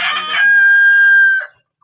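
A village free-range rooster crows once, loud and close, in one long sustained call that ends abruptly. Brief clucking from the chickens comes just before it, and no one speaks.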